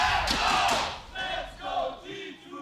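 An esports arena crowd at a League of Legends LEC Spring playoff match between G2 Esports and Mad Lions chants loudly in rhythmic bursts, a roaring, echoing mass of voices swelling and fading.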